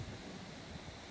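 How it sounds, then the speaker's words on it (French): Steady, faint broadband rush of wind gusting during a storm in Isère, a continuous low roar with no breaks and no voices. "Le bruit du vent derrière."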